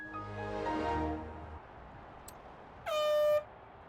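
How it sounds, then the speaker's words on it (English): A vehicle air horn in a video game sounds as a long, droning blast that fades out, followed after a pause by one short, sharp honk, with no talking over it. "That's a half-assed air horn if I've ever heard one."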